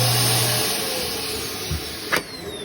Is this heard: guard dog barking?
no